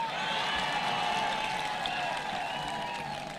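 An audience at a public gathering in Meru County claps for Josephine, a steady, dense wash of applause from a large crowd that holds evenly and begins to fade at the end.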